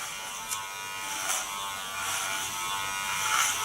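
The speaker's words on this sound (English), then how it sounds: "Take my Kioni clipper, large clipper, put my comb into the hairs." A large Kioni hair clipper buzzes steadily as it cuts through strong hair, a close continuous electric whir with small bursts as the blade bites in.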